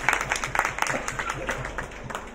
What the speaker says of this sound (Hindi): एक बार जोरदार तालियां हो जाए जो.